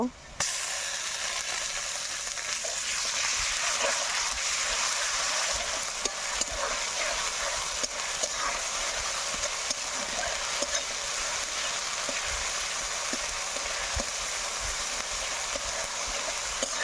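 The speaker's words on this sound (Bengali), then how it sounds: "পেঁয়াজ ভাজা হয়ে গেছে এখন আমি রসুন বাটা দেব" Garlic paste frying with browned onions for a Bengali bata fish curry, a loud continuous hiss and sizzle after it hits the pan, with scattered stirring scrapes over the steady frying.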